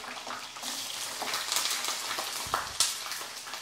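Food sizzles and spits in a frying pan at home, a soft steady crackle with a few sharper pops and clatters near the end, fairly quiet and without talk.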